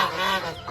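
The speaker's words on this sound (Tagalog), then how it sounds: "Yung mga tropang gansa, gutom na." Geese on a farm honking, a short burst of loud, close, overlapping honks from several birds.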